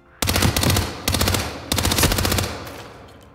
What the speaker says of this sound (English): That was some bad shooting.